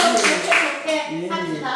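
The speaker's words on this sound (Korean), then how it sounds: "박수로 이걸 좀 통과시키고" Villagers clap their hands at a rural community meeting, a short burst of clapping mixed with voices talking over it.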